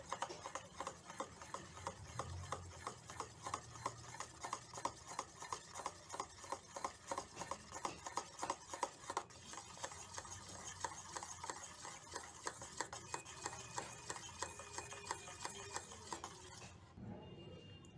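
Homemade cream mixture with citric acid stirred steadily in a container, a quick regular scraping rhythm of soft ticks and rubs running throughout, fairly quiet and close with no talk.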